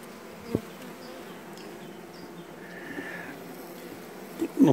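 Honeybees buzz softly around a beehive frame and polystyrene divider during a February wintering check, a low steady hum close by with a brief knock and a few handling noises near the end.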